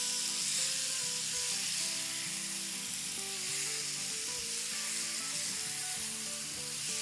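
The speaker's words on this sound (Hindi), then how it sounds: "चलिए ये फ्राई हो रही है" Goat liver (kaleji) sizzles steadily in a hot frying pan, a continuous close crackle and hiss with no talking.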